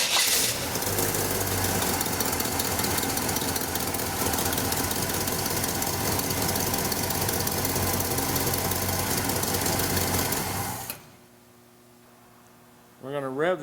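The V8 engine of a 1956 Chevy 3100 pickup runs with a loud, steady, rough rumble for about eleven seconds, then cuts to near quiet before a brief burst of sound at the end.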